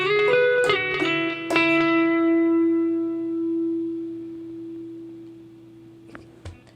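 Electric guitar plays the closing phrase of a song: a few quick picked notes, then a final note struck twice and left to sustain and fade, with faint string noise near the end.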